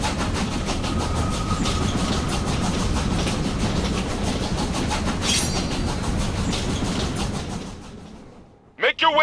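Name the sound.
train running, from video game Killer is Dead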